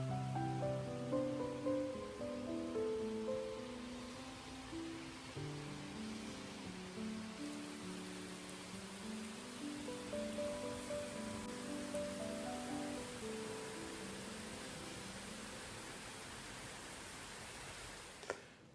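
Rain begins falling outdoors in a garden, a soft, steady hiss of drops spread evenly across the whole stretch, with a faint tonal hum running underneath and no voices.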